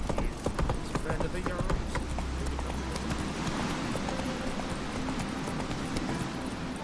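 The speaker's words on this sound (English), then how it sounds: "Giddy up." A horse in The Witcher 3 video game gallops with rapid, rhythmic hoof clip-clops beneath speaking voices and ambient game sound, staying steady and close throughout.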